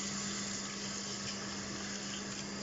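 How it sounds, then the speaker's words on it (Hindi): Hot water from boiled rice pouring through a strainer into a kitchen sink, a steady, continuous rushing gush with a faint hum beneath, unbroken and without talk. "स्ट्रेनर में डाल के आपने पानी को ड्रेन करना है, गर्म पानी को"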